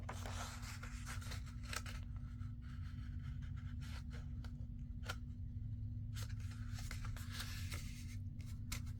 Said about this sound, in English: And then I fold my other corners